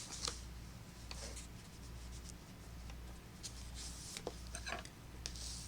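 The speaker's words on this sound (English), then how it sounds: "And we're going to fold it over." Scored cardstock card base folded in half on a craft table, giving soft papery rubs and light crisp creasing sounds, close and fairly faint, with no talking.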